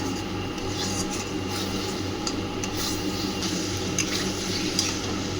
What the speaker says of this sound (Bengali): আলুগুলো একটু কষিয়ে নিয়ে আমি মাশরুমটা দিয়ে দেবো।